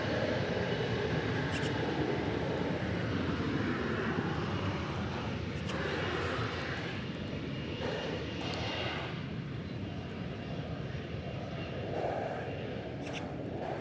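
An Embraer 175 jet takes off from Dallas Fort Worth airport on a sunny day, its engine roar steady and broad throughout, fairly distant and continuous without talk.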